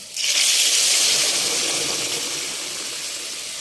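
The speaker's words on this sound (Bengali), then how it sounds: "এবারে একটু গরম জল দিয়ে দিচ্ছি।" Hot water poured into a pan of fried potatoes for a hilsa fish curry, a loud rushing hiss that bursts in at once and slowly fades to a steady simmer.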